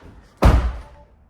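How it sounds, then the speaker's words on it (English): A single solid slam of a Tesla Model Y Juniper car door shutting, close by, with a low heavy thud and a short fading tail, then quiet. "Let me close the door."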